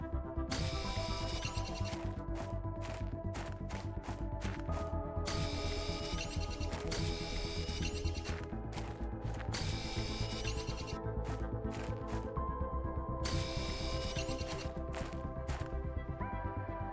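Mining drill at work in Planet Crafter, hunting iron, titanium and silicon: a steady mechanical grinding hum broken by repeated rapid clicking, ratchet-like bursts, close and continuous with no talk.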